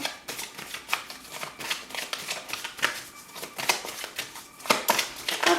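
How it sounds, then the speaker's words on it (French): Tarot cards are shuffled and drawn, giving a close, dry run of rapid flicking and riffling clicks with irregular rhythm and no speech. "je vais prendre une autre carte"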